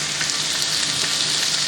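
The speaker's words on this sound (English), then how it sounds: "Do you hear the lovely sizzle of my beautiful chicken?" Steady, dense sizzling of chicken frying in a pan, a continuous crackling hiss with no talking.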